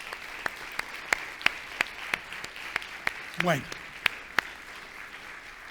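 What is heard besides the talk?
audience applauding the children in church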